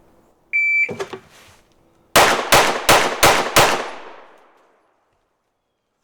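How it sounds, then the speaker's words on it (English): Five rapid pistol shots ring out in quick, even succession from the draw, sharp and loud with a short decaying tail, preceded by a timer beep and a faint rustle, for a Smith & Wesson Carry Comp 2.0 or Walther PDP. "draw 5, shoot 5 in under 5 seconds"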